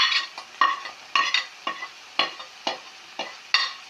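Sliced onions frying in a pan while a spoon stirs them, giving a quiet sizzle broken by about a dozen sharp scraping strokes in an uneven rhythm.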